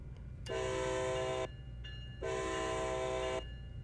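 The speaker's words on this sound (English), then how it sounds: "Sound the horn twice." Two long horn blasts sound from a train in the Train Sim World game on the Northeast Corridor near New York, each about a second long, loud and chord-like, with a short pause between them.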